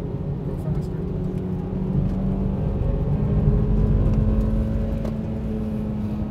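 A car engine holds high revs at the top of third gear during fast cornering, a loud steady droning whir with a faint rise in pitch, heard from inside the car, with a voice talking over it.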